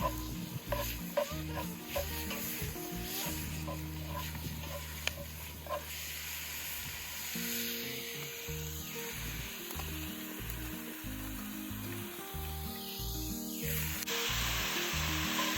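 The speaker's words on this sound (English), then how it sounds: "So now, let's stir that around." A casserole is stirred in a hot Dutch oven over a fire, giving a low sizzle and scraping of the spoon against the cast iron, quiet and continuous, with faint outdoor background throughout.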